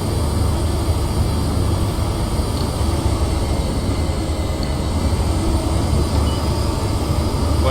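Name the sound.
Class 43 HST train running, from Train Simulator video game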